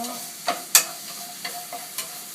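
Salted zucchini stir-fried in a pan for bibimbap, a soft sizzle under a handful of distinct utensil scrapes and clacks against the pan, close and moderately loud, with no talking.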